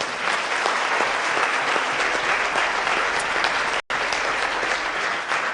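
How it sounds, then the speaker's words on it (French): Warm, steady applause from a conference audience closing a talk on future real estate, a thick continuous wash of many hands clapping without letup. "Merci, je crois qu'on peut vous applaudir."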